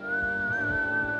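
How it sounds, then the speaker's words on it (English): A cartoon character whistles a single sustained, clear steady note, loud and close, held for over a second with no talk. "What a fascinating way to describe the whistle."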